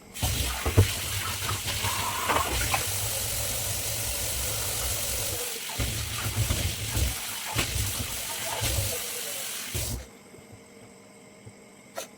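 Kitchen sink dish washing under a running tap, a steady gush of water with clinks and knocks of utensils for about ten seconds before the flow stops and the room goes quiet.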